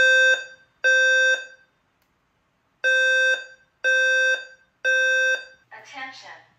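A Notifier NFS2-3030 fire alarm system sounds in a building, giving five loud, harmonically rich horn blasts in a broken temporal pattern, followed by the onset of a recorded voice announcement.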